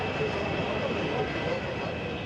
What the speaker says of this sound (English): The engine is slowly beginning to clear now